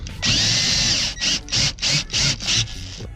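Power tool bolting down a bucket seat in a Nissan 240SX, a close, loud drill whine that runs for about a second and then pulses in five short bursts, with no talking.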